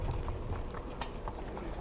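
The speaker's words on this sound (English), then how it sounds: "horses clomping down slushy streets" Horses' hooves clomp along a slushy street in a steady run of dull, soft-edged hits, moderately close under a wash of low outdoor noise.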